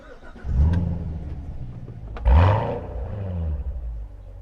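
A pre-production Chevrolet Corvette Stingray Z51 engine cranks and catches with a loud roar, revs once more sharply, then settles into a deep, throbbing idle.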